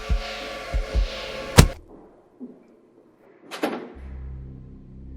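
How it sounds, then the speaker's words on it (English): A door slams shut with a loud, sharp bang, alongside other thuds and bumps, followed by a second impact and then a low, steady hum. "I rushed inside and closed the door"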